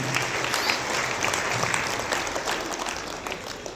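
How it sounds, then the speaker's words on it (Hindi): A large gathering at a Shiv Mahapuran katha applauds the police superintendent, with steady massed clapping held at an even level from start to finish and no voices on top. "उनके लिए भी बहुत अच्छी ताली आप बजा दीजिए"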